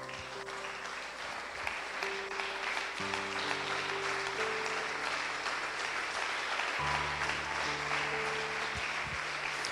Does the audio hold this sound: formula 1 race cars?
no